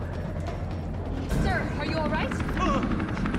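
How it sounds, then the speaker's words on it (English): Helicopter in the video game Resident Evil 3, a steady low rotor rumble running throughout beneath game sounds, with voices speaking over it. "there's a helicopter waiting to take you to safety"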